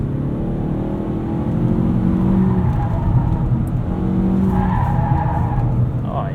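A 2018 Mazda3 Grand Touring with a six-speed automatic, set in sport mode, accelerates hard: a steady, loud engine drone rises in pitch with tire noise, heard from inside the cabin with no talking.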